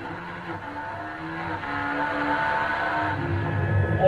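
Super Twin class racing motorcycles, two-cylinder machines of 550 to 650 cc, scream past at speed. The engine note rises and builds in a continuous, loud whine.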